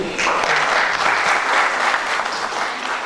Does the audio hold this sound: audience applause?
yes